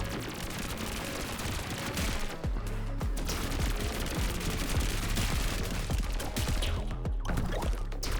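Gunfire in the video game Pathogenic, dense continuous bursts of rapid shots layered over a loud, busy game soundscape throughout, with no talk.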